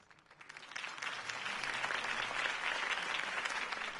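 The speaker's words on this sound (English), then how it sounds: "If only Mr. Wayne, my campaign's largest backer, could have heard that applause" Applause from a crowd in the Batman Telltale video game, beginning quietly and swelling within a second into sustained clapping that goes on steadily.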